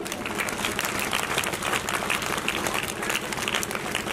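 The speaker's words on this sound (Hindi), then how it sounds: "इनके लिए तालियां तो बजनी चाहिए।" A crowd at a live village event claps steadily, producing a dense, even rattle of many hands that stays consistently loud for the full few seconds with no voice over it.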